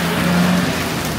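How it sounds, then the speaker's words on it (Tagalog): Steady rain falls on a street in Singapore, a dense continuous hiss with a low traffic rumble beneath, loud and close throughout the short stretch. "umuulan"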